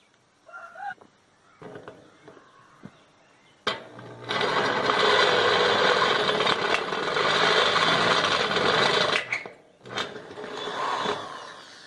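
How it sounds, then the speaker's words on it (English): A drill spins up with a repaired bit for a test bore, running loud and steady for about five seconds after some quieter handling noises, then stopping and briefly whirring again. "I'm gonna go ahead and put it in the drill and see if we got it to where it'll drill again yet."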